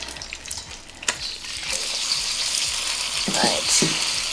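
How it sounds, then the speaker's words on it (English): Eggs whisked and fried in hot oil in a wok, a loud, bright sizzle rising and holding steady, with a few short scraping strokes near the end. "I'm whisking it in the wok one time."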